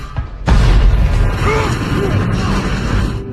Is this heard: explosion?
yes